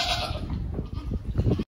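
Osmanabadi goats on a goat farm bleating several times, close and fairly loud, with quick uneven calls that pile up toward the end over a hissy background.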